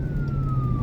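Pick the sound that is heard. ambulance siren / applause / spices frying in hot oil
ambulance siren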